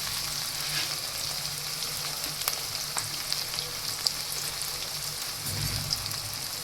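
Ingredients for restaurant-style matar paneer fry steadily in hot oil, a continuous close hiss with faint crackles and a few soft pops, no one talking.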